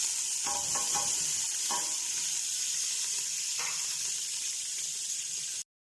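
Shallots and garlic frying in hot oil, a steady close sizzle with a few soft clinks and stirring noises before it cuts off abruptly.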